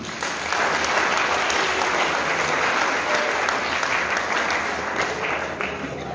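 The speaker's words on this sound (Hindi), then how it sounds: "एक दफ़ा अपने लिए तालियां बजा दी।" Sustained applause from an audience at a poetry gathering (mushaira) in a college hall, a dense, even roar of many hands clapping for about six seconds, fairly loud and continuous.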